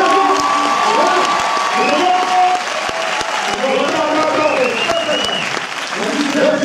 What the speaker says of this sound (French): je vais vous demander de les applaudir très très fort.